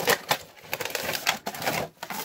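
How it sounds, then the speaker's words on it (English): Tape is cut on a toy's packaging in a quick run of close, sharp clicks and snips, irregular and dry, lasting about two seconds. "to open these guys up, we're going to cut a piece of tape there, and then he should just slide out"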